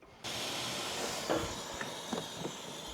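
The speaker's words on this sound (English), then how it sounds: "You can hear all the air escaping right here in this clip." A steady, loud hiss of air escaping from a leaking vacuum hose on a Porsche 996 Turbo engine runs throughout, with a few faint clicks and knocks in the background.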